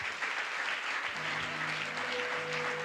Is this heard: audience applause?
yes